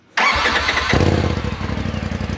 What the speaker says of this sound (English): before we take off the muffler on the car, we're gonna go ahead and start it, give you guys a before sound and see what it sounds like